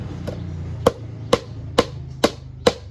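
Hammer blows drive nails while a coconut-rib broom is assembled by hand, six sharp, evenly spaced strikes about half a second apart, close and crisp over a quiet background.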